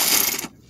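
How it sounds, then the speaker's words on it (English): Ratchet wrench working rusty bolts at a Massachusetts junkyard: one close, dense burst of rapid clicking lasting about half a second, then it cuts off. "if the impact wrench all else fails, the ratchet's still pretty fucking good"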